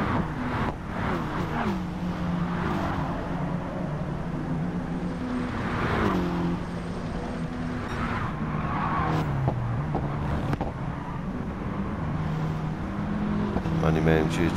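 Race cars in Gran Turismo 7 during a one-hour Lancer enduro, several engines droning and shifting pitch together in a pack, with tire squeals and a passing car, steady and loud throughout while a commentator talks over them.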